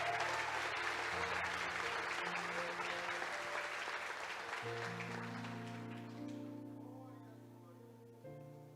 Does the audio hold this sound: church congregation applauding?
yes